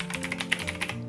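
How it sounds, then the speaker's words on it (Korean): Rapid clicks of keys, including F2, being pressed on a computer keyboard during 3D CAD modelling work, around ten quick taps over a low steady background hum. "키보드의 F2번을 눌러주시면 돼요"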